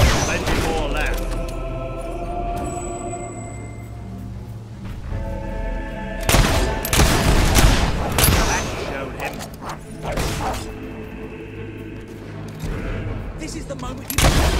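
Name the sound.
gunfire in a video game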